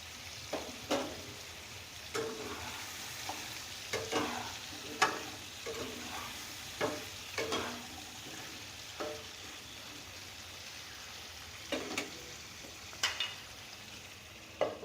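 Arhar dal with ash gourd and green chillies fries in a pan, a gentle sizzle under repeated scraping knocks of a spoon as it is stirred, with no one speaking.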